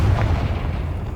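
Brief, deep boom of the Confringo blasting spell exploding in Hogwarts Legacy, a loud low rumble that fades over about a second.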